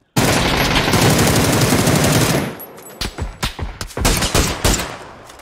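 Gunfire in a video game: a rapid, loud machine-gun burst for about two seconds, then scattered single shots and short bursts with gaps between them.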